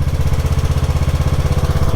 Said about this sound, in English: If you're looking for a true garden tractor, then this is the way to go.